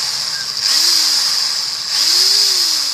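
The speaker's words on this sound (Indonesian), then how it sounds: "selanjutnya pengeboran pada ujung ekornya" A power drill bores into the tail end of a handmade frog fishing lure, a steady close whine with two brief pitch swells as the bit bites and eases.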